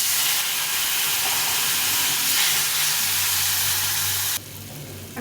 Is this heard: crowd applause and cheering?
no